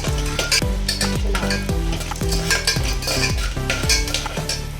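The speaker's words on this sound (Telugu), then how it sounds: "జస్ట్ అలా సాజీరా, చెక్క, అరటి మొక్క వేయించుకోవాలి." Whole spices such as shahi jeera, cinnamon and a bay-type leaf fry in hot oil in a pan, giving a loud steady sizzle broken by regular scraping stirs of a utensil against the metal, close up with no talk.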